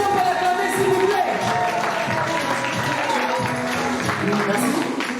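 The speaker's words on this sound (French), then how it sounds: "Est-ce qu'on peut l'acclamer, s'il vous plaît?" Wedding guests at a civil ceremony applaud and cheer the bride, a steady wash of clapping and crowd noise lasting throughout, with voices mixed in.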